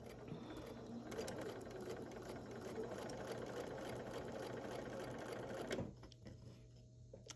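A sewing machine runs steadily while stitching quilt block squares together, a continuous close mechanical whir that stops abruptly near the end, leaving a quiet room.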